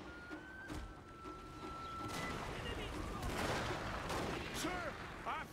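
Musket gunfire in the video game Total War: Fall of the Samurai, a few scattered crackling volleys and shots heard at a distance under battlefield ambience and faint game tones, moderately quiet.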